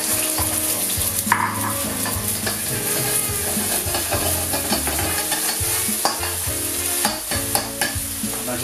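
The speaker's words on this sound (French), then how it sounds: "Donc là l'huile est bien chaude. C'est simple, on commence par les œufs." Eggs crackle and sizzle in hot oil in a pan, a dense, loud, continuous frying hiss broken by the scrape and tap of a utensil stirring, with no voices.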